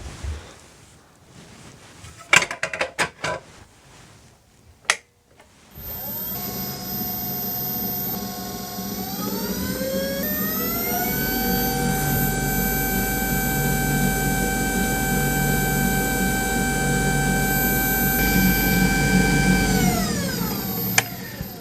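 A Clarke CWL460 wood lathe on a test run: a few clunks and clicks, then the motor whirs up through rising tones, holds a steady loud hum with whine, and winds down near the end.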